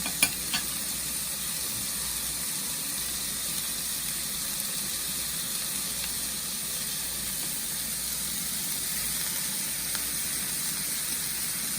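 Shrimp and rice noodles fry in a pan with a steady, close sizzle and hiss that runs the whole time, plus a light stirring clatter near the start.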